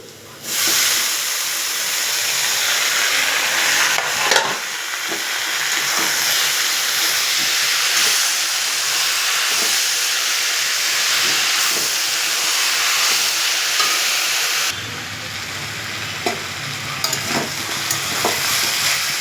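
Salt- and turmeric-coated taro pieces frying in a pan produce a loud, dense, continuous sizzle and hiss up close, with a few stirring knocks and a drop in intensity toward the end; no talking.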